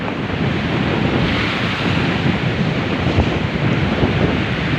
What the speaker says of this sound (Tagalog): malalaki ang alon dito tsaka ang lamig-lamig ng hangin